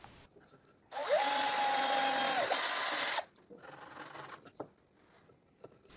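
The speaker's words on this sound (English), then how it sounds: "I drill a guide hole both in the table and in the strip." A power drill bores a guide hole into a wooden drill press table and strip, a loud whirring whine lasting about two seconds, followed by quieter handling clicks and scrapes.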